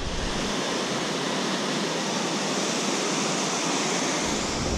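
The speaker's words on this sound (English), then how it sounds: "You can hear the plunging water from here." Tuolumne Falls roars steadily from just above the falls in the granite Sierra Nevada, a loud, continuous broadband rush of plunging water with no voices over it.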